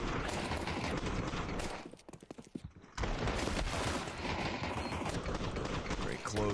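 Glock pistol fire in a Counter-Strike pistol round, heard as rapid bursts of virtual gunfire packed densely together, with a short lull, over a busy esports broadcast mix.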